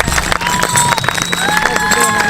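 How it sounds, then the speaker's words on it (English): Festival crowd at a Native American gathering in Brooksville, Florida, bursting into applause and cheering for an introduced guest, with whistles and voices rising over dense, continuous clapping that stays loud throughout. "Give him a round of applause."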